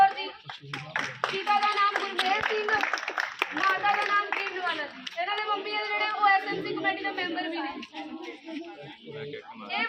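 Applause at a government middle school's annual prize-giving ceremony in a village, a burst of hand clapping mixed with children's voices and talk.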